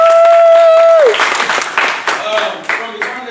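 Audience applause for a student at a Carver High School evening of speeches, starting after a sustained tone ends and continuing as steady clapping with some voices mixed in.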